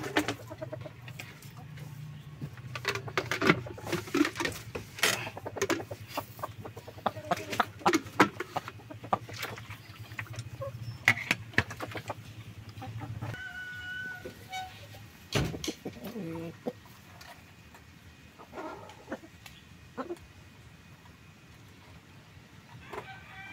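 Chickens on a farm cluck and call repeatedly at close range amid general barnyard bustle, with scattered sharp bird sounds throughout and a crowing-like call among them.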